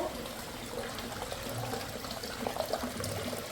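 Natural spring water flows and trickles inside a man-made basin by a mosque in Jerusalem, a soft, steady splashing stream heard alone at close range.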